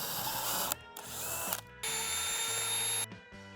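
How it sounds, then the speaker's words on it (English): Power drill boring a hole to mount a motorcycle tour pack backrest: three close, loud bursts of high whining drilling separated by short pauses, the last burst the longest. "then went ahead and drilled my hole"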